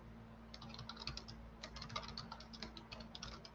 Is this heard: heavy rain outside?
no